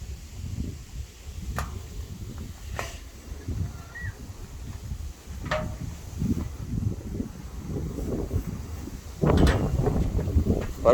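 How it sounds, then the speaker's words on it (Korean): Gusty wind buffets the microphone in low rumbling bursts at a house construction site in Gunsan, rising stronger near the end, with a few faint taps and knocks in between. "바람 소리가 좀 많이 들리죠."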